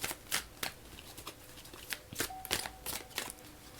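A deck of tarot cards is shuffled in a steady series of quick, crisp riffling bursts, close and fairly quiet, with no voices.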